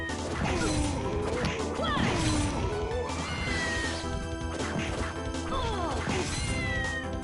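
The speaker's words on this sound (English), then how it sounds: "I hear another kitty cat." Cat meows in the Castlevania: Order of Ecclesia game, several short rising and falling cries scattered among crashing hits and busy game sounds, fairly close and loud with no talk over them.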